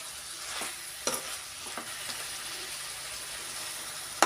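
Chicken curry meat being stirred in a pan over a steady sizzle, with a few soft scraping strokes and a sharper clack at the very end, fairly quiet and with no talking.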